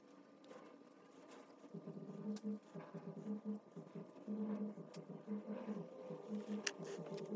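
A small paper card piece is fussy cut by hand, giving a quiet, close run of short, irregular snips and rustles that come in uneven bursts.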